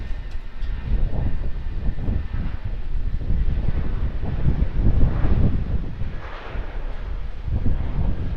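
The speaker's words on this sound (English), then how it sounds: "Air New Zealand Airbus A320." An Air New Zealand Airbus A320 roars past at Auckland Airport, a broad, steady low rumble of jet engines with rushing wind noise, loud and sustained without any talking.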